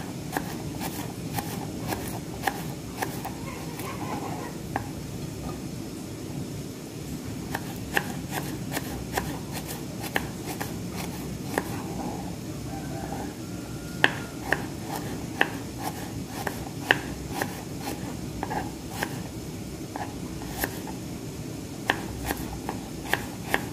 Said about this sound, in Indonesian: Aku mau potong-potong. Cabai, bawang putih